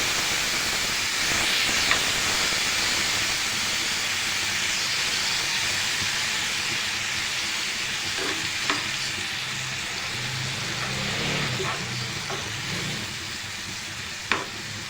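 Marinated chicken sizzles and spits steadily in about a tablespoon of cooking oil in a pan for chicken tikka kabab, a continuous close hiss broken by a few sharp pops and crackles, with no voices.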